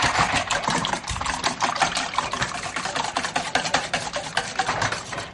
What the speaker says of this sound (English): start with 10 eggs and just beat those with a whisk